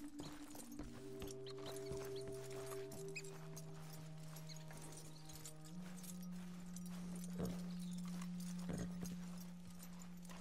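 Horse hooves clip-clop steadily on the ground in Red Dead Redemption 2, a quiet rhythmic series of hoofbeats under a sustained low musical drone.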